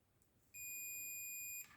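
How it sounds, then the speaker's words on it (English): A multimeter gives one steady continuity beep for about a second, a clear high tone against near silence. "You touch the two pins or the two prongs on the end of your multimeter together, you should hear a beep."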